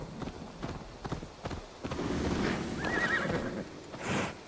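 A horse whinnies in the medieval open-world video game Assassin's Creed Valhalla, a shrill, fairly quiet neigh following scattered hoof clops, with a faint voice at the end.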